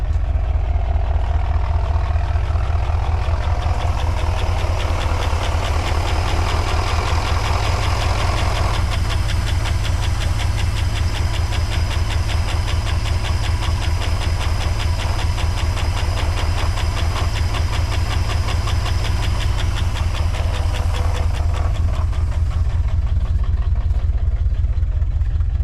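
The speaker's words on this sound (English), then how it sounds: "That thing's running at like 600 RPMs." A 1964 Oldsmobile 98 engine idles at low RPM with a loud, continuous, even rumble and a faint hiss on top, close by and without any talk.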